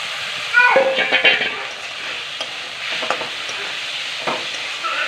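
Potato pieces stirred and tossed in hot spiced oil for a bhetki fish and potato curry, with a steady sizzle and bursts of scraping and clatter early on, under a faint background voice.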